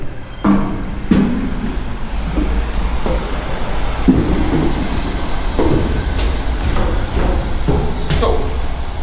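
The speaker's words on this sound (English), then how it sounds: "let the train pass first." A train rolls past close by, its railcars rumbling steadily with repeated wheel clatter and occasional squeals throughout, near and loud, next to an aluminium sailboat build site.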